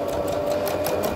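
A Brother LX27NT domestic sewing machine stitches fabric in a steady, fast mechanical whir with a fine repeating needle chatter, close and continuous, with no voices.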